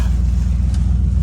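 An older car with a TPI engine turns over and runs after the fuel pump primes, giving a deep, steady, rumbling idle close by, loud and continuous with no talk.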